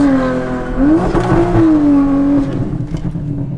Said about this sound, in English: I'm gonna give it a clutch kick entry.